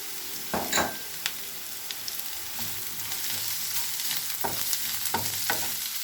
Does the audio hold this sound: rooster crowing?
no